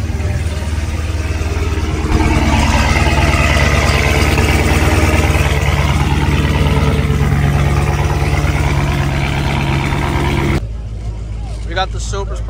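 Idling car engines rumble at a car meet as supercharged cars pull through, a steady low drone with people talking over it, ending in a brief quieter stretch.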